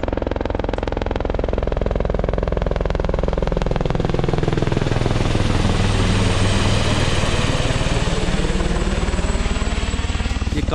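A loud helicopter near Kedarnath, India drones steadily throughout, its rotor chop pulsing rapidly and the engine pitch shifting as it passes close overhead; no talking.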